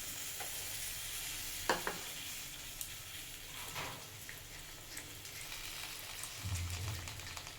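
Strained mustard-paste water is poured into a cooking pan, bringing a faint, close sizzle and light stirring scrapes, with a low gurgling swell of liquid near the end.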